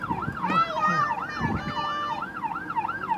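A fire engine siren wails loudly and close at an Emergency Services Day event, a continuous rapid up-and-down sweep that repeats steadily with faint crowd noise underneath.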